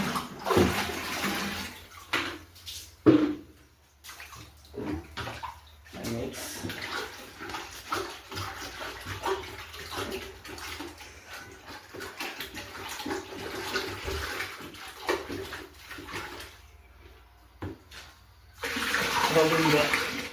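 Water gushes and splashes as it is filled into plastic drums for a cow-dung fertilizer mix, running in long bursts with brief pauses, close and steady.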